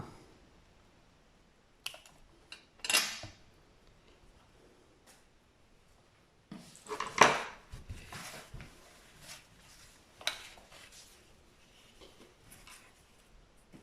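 Scissors snipping through plastic straws: sparse sharp clicks and crisp cutting snaps, with a couple of louder rustling cuts, close up and otherwise quiet.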